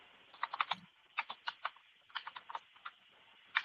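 Someone types text on a computer keyboard, with short bursts of quick close key clicks separated by brief pauses, quiet and with no talking.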